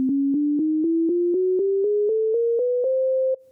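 Twelve notes played one after another on a fretless, keyless instrument, each a clean sustained tone stepping upward in pitch at an even pulse, with a slight gap before the last note, alone and clear.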